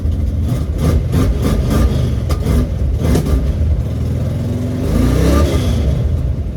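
A 1969 Camaro engine runs loudly and steadily close by, its rough idle rising in repeated revving surges, with a sharp backfire-like burst near the end.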